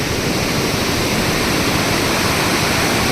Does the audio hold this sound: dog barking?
no